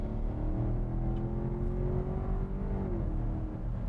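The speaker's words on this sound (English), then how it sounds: "Hear that engine? Great revving," Inside a 2019 BMW X7 M50i, the engine hums steadily as it accelerates, its tone rising smoothly and then dropping slightly, with no talk.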